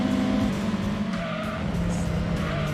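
Car in Gran Turismo 2 sliding sideways, a steady tire squeal riding over a droning engine note that holds for a few seconds with no talking.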